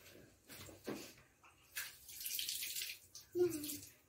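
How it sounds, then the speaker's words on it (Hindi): Hands washed under a running tap at home, with faint intermittent splashing water and a few soft household noises, quiet overall. "चलो हाथ धो के"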